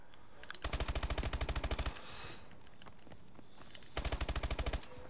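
Rapid automatic gunfire from a video game rattles in two tight bursts, each a fast even string of shots lasting about a second, separated by a quieter pause.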